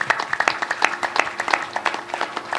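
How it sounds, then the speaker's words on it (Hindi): An audience claps at a Ramayan recital in a village, a quick burst of scattered handclaps, fairly close and moderately loud, irregular and uneven. "अब ताली बजाना"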